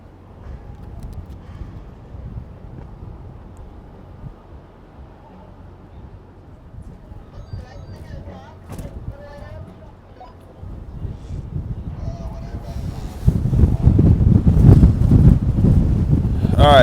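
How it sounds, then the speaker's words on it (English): Strong wind buffets the microphone at a muddy Supercross track in Foxborough, Massachusetts, gusty low rumbling that swells sharply louder toward the end, with someone talking at times. "so windy"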